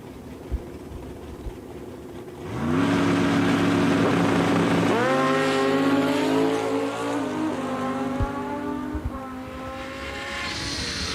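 A car and a motorcycle launch side by side in a bracket drag race at Eddyville Raceway Park, engines roaring loudly and climbing through gear changes, then holding a strong, sustained wail before easing off near the end.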